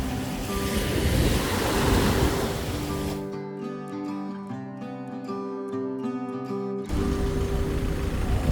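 Waves washing onto Sao Beach in Phu Quoc, with steady surf rushing under heavy wind buffeting on the microphone and a calmer stretch midway where a low hum comes through.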